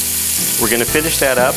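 Beef tips sizzle in oil and butter in a frying pan, a steady hiss continuing beneath someone speaking up close.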